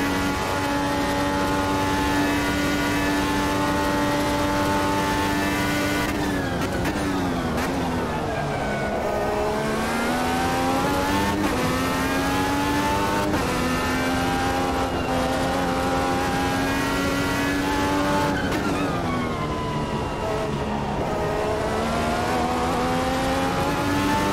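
A race car in the game Automobilista 2 laps on worn tyres, its engine note whining steadily and sweeping down then back up as it brakes and accelerates through corners, with gear changes, continuous and prominent.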